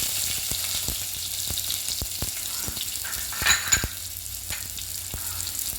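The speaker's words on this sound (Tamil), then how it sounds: "வெந்தயமும் நல்லா பொரிஞ்சு வரணும்." Fenugreek seeds fry in hot oil as the base for a Kerala fish curry, a steady close sizzle and crackle with a few louder spitting pops midway, no talking.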